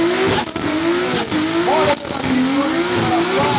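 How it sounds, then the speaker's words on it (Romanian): Drag racing cars at a race event in Arad, their engines roaring steadily with rising revs and sharp tire squeals, loud and close throughout with no talk. "Se întâmplă curse, drag racing events."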